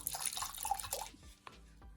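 Water poured into a tray to bottom-water a potted houseplant, a few splashy trickles up front followed by sparse drips and quieter settling sounds, close and alone.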